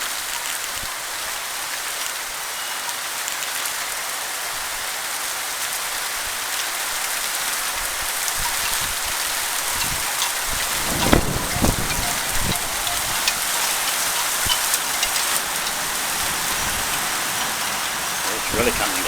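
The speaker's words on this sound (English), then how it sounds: "Yeah, we got it. A thunderstorm." Heavy rain falls during a thunderstorm in a dense, continuous roar of drops hitting surfaces. It grows slightly louder with brief splashes partway through.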